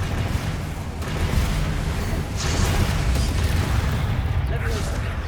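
A Confringo blasting spell explodes in Hogwarts Legacy, a loud, rumbling, continuous blast of noise with voices mixed in over it.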